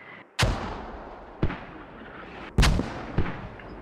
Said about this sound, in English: the mortars that are landing on her squad